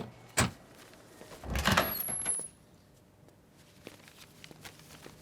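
A house door is unlocked and opened: a sharp click, then a longer burst of latch and hinge noise, followed by quieter scattered knocks and movement in a still room.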